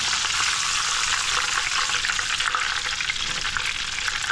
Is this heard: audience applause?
no